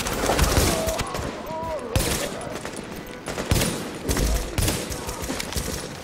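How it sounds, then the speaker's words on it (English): Gunfire in The Division's Dark Zone, including pistol shots: several sharp cracks spaced across a few seconds amid ongoing game noise, with voices talking in between. "Ooh, got him with a handgun."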